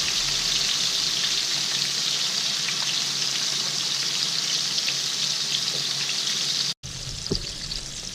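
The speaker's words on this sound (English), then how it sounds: "now you put this in the pan and you're going to leave it cooking here, alright, for at least 3 minutes aside" Seasoned trout frying in a pan outdoors after a catch, a steady bright hiss of sizzling oil held close and even for several seconds, briefly cutting out near the end.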